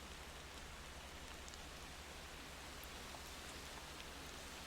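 Rain falling steadily in the truck-driving video game Motor Town, a soft, even hiss of drops on surfaces that stays constant and faint the whole time.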